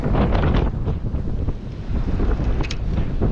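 Strong wind buffets the microphone on a Great Barrier Reef shoreline at a very low tide, a loud, continuous rushing roar with gusting swells throughout and no voices.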